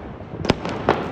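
Diwali firework shots burst outdoors in two sharp pops about half a second apart over a steady crackling hiss, loud and fairly close.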